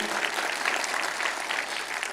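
A church congregation applauds in a continuous, even burst of many hands clapping, moderately loud and sustained for the whole stretch with no clear voices.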